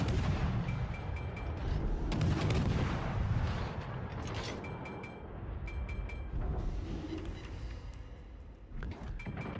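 Naval guns fire repeatedly in the World of Warships: Legends video game, with heavy booming blasts over a rumbling battle backdrop and faint interface beeps.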